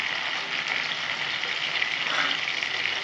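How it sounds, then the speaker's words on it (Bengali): Potatoes frying in hot oil make a dense, even sizzle that stays close and steady throughout, with no voices. "লাল লাল করে আলুগুলো ভেজে নেব।"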